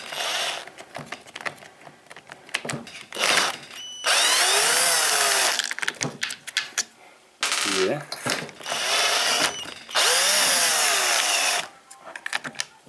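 A power screwdriver whirs in repeated bursts, unscrewing the air filter cover screws on a Stihl MS181C chainsaw, with ratcheting clicks and brief pauses between loud close runs.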